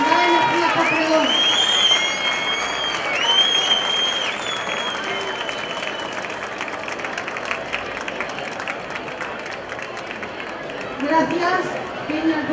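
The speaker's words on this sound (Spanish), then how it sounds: "Un fuerte aplauso." A crowd at a town fair's opening proclamation and chupinazo (Feria 2015) applauds in a scattered, uneven way while voices chatter, and whistle-like tones rise in the first few seconds.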